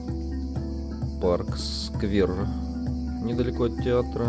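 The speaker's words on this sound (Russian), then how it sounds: "Вы слышите звук цикад, они везде, это фирменный звук Абхазии." Cicadas chirp in a park square near a theatre in Sukhum, Abkhazia, a steady shrill drone running under a person speaking nearby.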